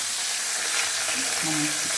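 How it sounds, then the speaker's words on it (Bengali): Steady oil sizzle of two rohu fish heads frying in a pan, a continuous bright hiss with a faint low hum underneath. "এই রুই মাছের মাথা দুটো বসিয়েছি। মাথাটা ভাজা হলে আমি রান্না শুরু করব।"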